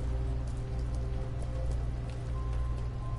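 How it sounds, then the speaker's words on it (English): Steady rain patters continuously in a video game, a dense even hiss with no one talking. "No more sleeping in the rain."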